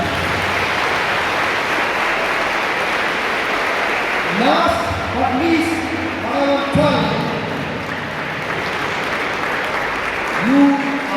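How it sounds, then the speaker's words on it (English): An auditorium audience claps at a farewell event, dense, steady applause filling the room for about four seconds before it fades and a speaker's amplified voice takes over. "Let's give a round of applause for them."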